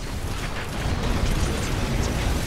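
A Tempest missile strike in Earth Defense Force 5 lands as a sustained, rumbling roar of explosions, loud and dense throughout, with no voice over it.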